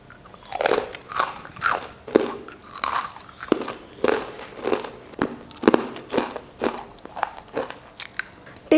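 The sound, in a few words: biting crunchy gram flour murukku snack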